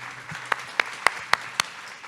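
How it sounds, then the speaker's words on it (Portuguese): Audience at a book fair panel on territories welcomes a speaker with a handful of sharp, evenly spaced claps, about five distinct hits over a low room hum, moderately loud and without talk. "Palmas para Chay."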